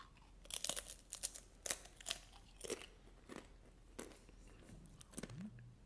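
Crisp bites of a fenugreek (methi) snack, a series of sharp crunches followed by close chewing, with quieter crackles between the louder bites.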